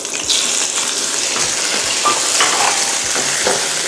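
Shrimp tossed into a pan of frying shallots and garlic, a steady bright sizzle with rhythmic stirring scrapes, close and continuous throughout.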